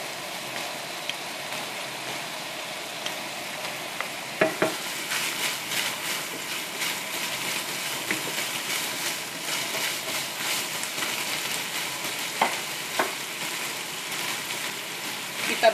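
Shallots and garlic sizzle steadily in a pan, a continuous frying hiss with occasional scrapes and clacks of stirring, close and even throughout.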